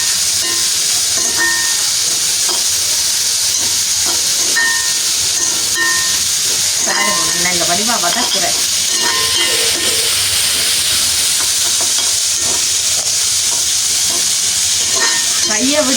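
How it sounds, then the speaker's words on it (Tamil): Ingredients for semolina vada sauté gently in a hot pan, making a loud, constant hissing sizzle with intermittent scraping stir strokes, close up and without talk. "நாங்கள் மெல்லிய சூடெலாம் இதை வதக்க போகிறோம்"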